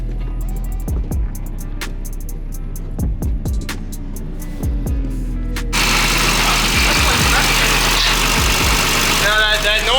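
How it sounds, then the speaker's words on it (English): A drift car's engine idles and revs at Calder Park, Australia, with an oil pressure problem suspected; low rumbling pulses give way to a loud, rising hiss and whine from the turbo in the second half, with voices talking throughout. "Now that noise is the turbo."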